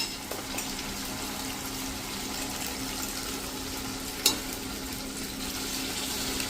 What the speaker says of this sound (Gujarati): હવે એમાં આપણે 1 ગ્લાસ જેવું પાણી નાખી દેશું.